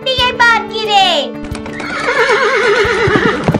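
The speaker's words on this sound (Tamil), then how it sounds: "நான் ஒரு குதிரை வண்டியை பார்க்கிறேன்." A horse neighs in a kids' song about a horse cart, giving a loud whinny with a falling pitch in the opening second, then children's singing and music take over.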